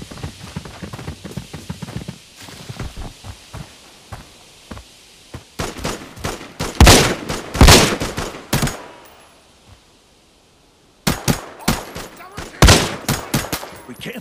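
Gunfire in the mobile shooter Arena Breakout: loud bursts of automatic fire in several volleys, with a near-silent pause before rapid shots resume, close and dominant, with light footstep-like clatter between bursts.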